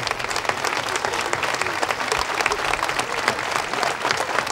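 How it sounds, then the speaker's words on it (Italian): A crowd at a political campaign gathering gives sustained applause, loud and dense with many hands clapping at once, steady throughout with some sharper individual claps standing out near the front. "a cui vi invito a fare un grosso applauso"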